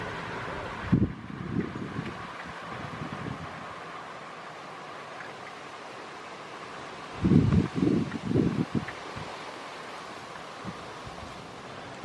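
Strong gusty wind rushes around a DIY Hugh Piggott axial flux wind turbine outdoors, a broad steady roar with a few louder buffeting bursts against the microphone.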